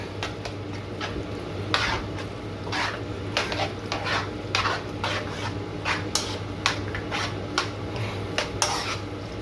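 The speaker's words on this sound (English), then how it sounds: "take a spoon of the bechamel sauce and add it into the mince. 1, 2. So it becomes 1. Mix it all up in the mince there." A spoon stirs béchamel sauce into cooked mince for moussaka in a pan, making repeated wet scraping and squelching strokes in an irregular rhythm, close and clear, over a low background hum.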